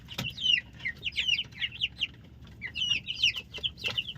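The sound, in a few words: broiler chicken chicks peeping and clucking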